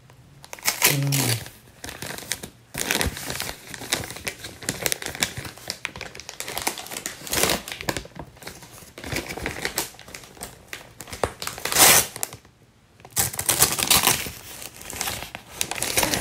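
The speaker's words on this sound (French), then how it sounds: "J'ose plus déballer" Wrapping paper crinkling and tearing as a gift is unwrapped during a friends' Christmas-themed present swap, with bursts of rustling and ripping close by and brief pauses between handlings.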